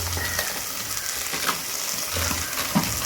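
Onion, tomato and green chilli cooking in a pan, a fairly loud steady sizzle with intermittent stirring scrapes and a low rumble, no voices heard.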